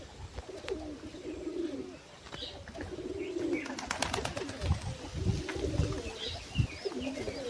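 Pigeons coo in repeated low, throaty rolls close by, with a few faint chirps and wing rustles mixed in across the steady murmur.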